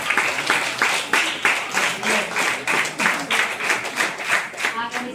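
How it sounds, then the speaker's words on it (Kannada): An audience at a community felicitation ceremony for a local legislator claps steadily in a dense, lively burst of applause, with voices audible over the clapping. "ಜೋರಾದ ಚಪ್ಪಾಳೆಯನ್ನು ಹಾಕಿ"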